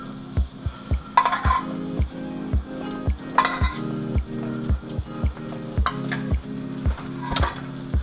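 Steaks sizzle in a buttered pan while a spoon keeps lathering them, giving a regular series of thumping knocks against the pan over a bright, continuous crackle, close and clear with no speech.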